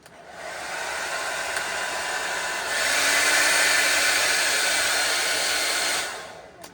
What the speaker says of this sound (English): let me try to get to 3200 with just the hair dryer